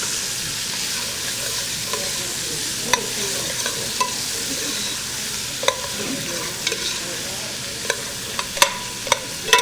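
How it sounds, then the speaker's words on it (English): Onions caramelize in rendered pancetta fat with a continuous bright sizzle, broken by sharp clinks and scrapes of a utensil stirring the pan every second or so. "caramelizing onions, especially when there's pancetta or bacon fat involved"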